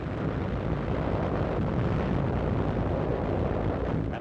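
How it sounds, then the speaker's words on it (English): Artillery shells bursting on Japanese positions in 1945 wartime combat, heard as a continuous dense, loud roar of blasts and rumble with no distinct gaps. "Artillery shells score direct hits on Japanese positions."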